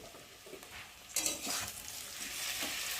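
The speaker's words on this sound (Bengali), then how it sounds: "দিয়ে ভালো করে মশলাটা কষিয়ে নেব ততক্ষণ না মশলার গন্ধটা যায়।" Spice paste with turmeric, salt, ginger-garlic, mustard paste and tomato frying for a bhola fish curry, a soft sizzle that rises as it is stirred, with scraping strokes close by.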